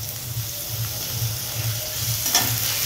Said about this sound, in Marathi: तर कांदा आपला फ्राय होतोय तर आपण त्याच्यात टाकतोय आलं लसूण पेस्ट